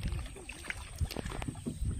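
A wooden boat glides slowly along a river beside the Sundarbans forest, giving soft water lapping and paddle-like splashes, close and quiet with light wind, no talking.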